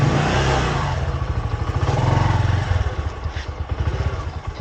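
A motorcycle pulls away from a standstill after a test drive and rides off, its mid-pitched engine loud and close, revving unevenly with a throbbing, slightly clattery note throughout.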